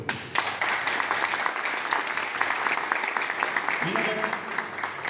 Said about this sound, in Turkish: en büyük alkışlar sizlerden Sayın Koordinatör istiyorum